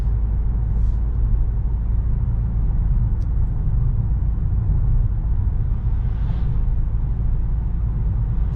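A Peugeot 3008 GT Line drives along narrow country lanes with a steady low engine and road rumble heard from inside the cabin, even and continuous throughout, with no talking.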